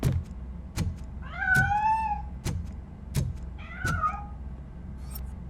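A cat in the Robocop Rogue City video game gives two drawn-out meows, each cutting through a run of sharp, regular knocking thuds in an otherwise quiet indoor scene.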